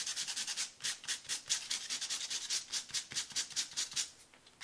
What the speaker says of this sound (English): in order to get that core color to come through, I'm just going to lightly sand.